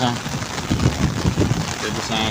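Heavy rain falls on a Pakistani village in a steady close wash, with a voice faintly talking underneath.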